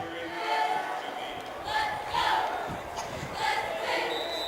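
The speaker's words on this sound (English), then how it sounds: "Cheer squad still going strong right down below us here." A football-game cheer squad yells in rhythmic bursts from below, the chanting voices rising and falling in several pulses over a general crowd murmur.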